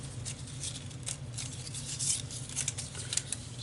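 Yellow scrapbooking paper is cut with a cutting guide, producing a run of quiet, crisp slicing and rustling strokes close by in an otherwise calm room.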